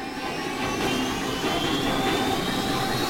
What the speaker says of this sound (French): Cet avion nous arrive droit dessus.